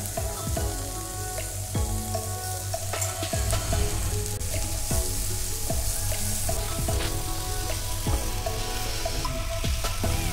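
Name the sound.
spinach stir-frying in a pan with fish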